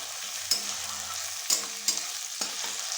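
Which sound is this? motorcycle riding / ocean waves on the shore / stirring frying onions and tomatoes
stirring frying onions and tomatoes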